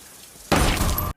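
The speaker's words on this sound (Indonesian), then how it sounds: "Atas suara tembakan barusan" A gunshot in a film scene during a robbery: quiet room tone, then a sudden loud broadband blast that rings out and sustains for about half a second before cutting off.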